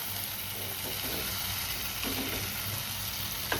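Fried potatoes go into a sizzling cooked-down spice paste in a pan, giving a soft, steady frying hiss with light stirring noises and a small clink near the end. Nobody talks.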